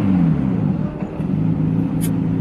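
A supercar engine with freshly advanced ignition timing revs steadily with a loud, close, throaty drone, the pitch wavering slightly as the throttle is held, with no talking.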